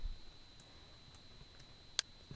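A computer mouse gives a few quiet, isolated clicks during CAD sketch work, with one sharper click standing out near the end over a faint steady hum.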